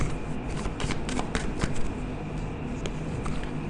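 Tarot cards being shuffled by hand, a steady riffling and rustling of card edges with sharp flicks throughout, close and fairly loud with no talking.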